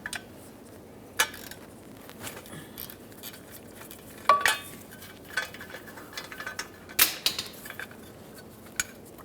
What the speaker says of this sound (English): Use a 13mm to remove both of these mounting bolts.